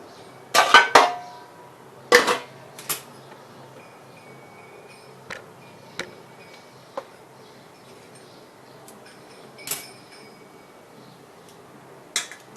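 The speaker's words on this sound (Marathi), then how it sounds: "आता मी गॅस बंद करते आणि खाली उतरून ठेवते थंड व्हायला." A cooking pot of steamed modak is lifted off a gas stove, giving a few loud metallic clanks and clatters near the start, then sparse lighter clinks and taps spread out over a quiet background.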